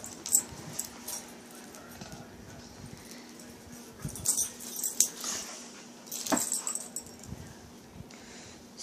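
Two dogs wrestling in a bedroom, with scuffling, panting, snorting and occasional high whimpers and yips, close and uneven, the activity rising in bursts across the scene.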